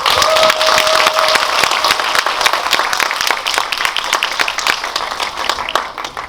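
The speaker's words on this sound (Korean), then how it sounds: "두 분 이렇게 동시에 입장하셨는데 박수 한번 부탁드리겠습니다" Cinema audience at a special film screening Q&A in Seoul applauds two guests walking in, loud dense clapping that starts strong and gradually thins into scattered individual claps, with a faint tone early on.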